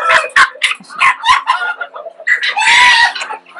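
Yokohama chickens, a Japanese breed, clucking in quick bursts close by, followed by a loud rooster crow near the end, with the birds calling densely over a quiet background.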